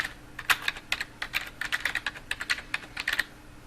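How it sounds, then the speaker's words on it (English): Search keywords being typed on a computer keyboard, with about twenty crisp, close key clicks in an uneven rhythm over a faint background hum. "we can type in the Enlightenment"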